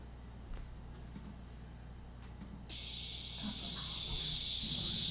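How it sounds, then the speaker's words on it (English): A loud, steady high-pitched electric buzz of a dog day cicada kicks in partway through and drones on without pause after a quieter stretch. "that is the sound of a dog day cicada"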